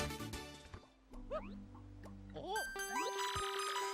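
An email alert chime from the video game Paper Mario: The Thousand-Year Door plays as a short run of bright, bouncy, rising tones over game music, clear and close.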